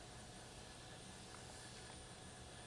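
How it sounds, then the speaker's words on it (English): An auxiliary power unit runs outside a Boeing 737-300 in a flight simulator game, giving a faint, steady whirring drone that holds without break and with no talk over it. "So you can hear the APU outside."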